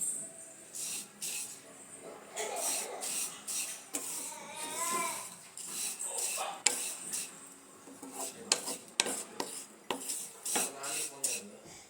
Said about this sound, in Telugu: ఇవి మరో గిన్నెలో ట్రాన్స్ఫర్ చేద్దాం.